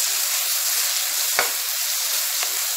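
Mint, curry leaves, coriander and ginger-garlic paste sautéing in a pan, a steady hiss of sizzling with a couple of faint stirring taps.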